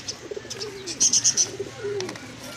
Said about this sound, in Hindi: और बहुत ही कमाल के कबूतर हैं ये